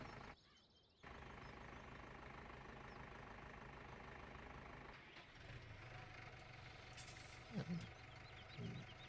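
A tractor engine idles steadily in Farming Simulator 17 on the Broxton map, a low continuous rumble broken by a brief dip near the start, with faint speech and a couple of short clunks toward the end.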